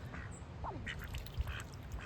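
A duck quacks softly a few times on a farm with other animals, faint against a low, steady outdoor rumble.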